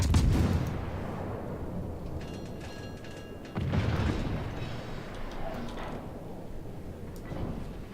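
Heavy naval guns boom in a World of Warships battle, a loud blast at the start and another midway, each followed by rolling rumble, with continuous battle noise between and no talk.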